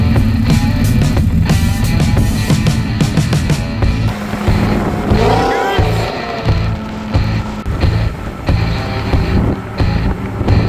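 A car engine revs loudly at a fuel stop in Helena, Montana, during a drag-and-drive race week, with deep throbbing pulses and a rising sweep partway through, mixed with other vehicle noise close by.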